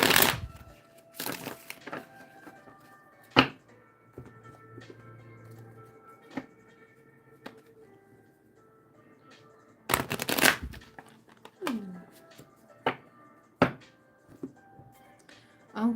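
Tarot cards being shuffled in several bursts, with sharp riffles and snaps separated by quieter stretches of soft handling.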